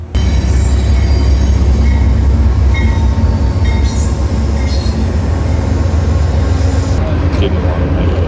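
A passenger train bound for the Winter Park ski resort rumbles loudly and steadily along the tracks, heard from on board, with metallic wheel squeals rising now and then over the constant roar.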